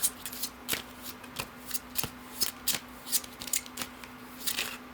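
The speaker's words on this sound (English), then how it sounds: "I'm going to pull some cards for what you're meant to do, what you're meant to bring." Tarot cards are shuffled and pulled by hand in a steady run of quick, crisp riffling flicks, close and alone with no talk.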